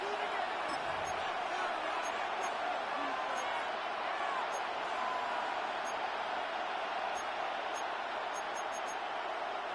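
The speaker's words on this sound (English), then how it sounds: "This crowd turning up the decibel level." Stadium crowd noise from the Madden 26 football video game, late in the fourth quarter of a one-score game, forms a dense, steady roar that fills the whole stretch at an even level.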